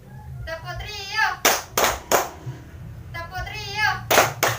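Three crisp, evenly spaced claps from a class of children ring out loudly after a teacher's spoken cue, then the triple pattern begins again as she talks on.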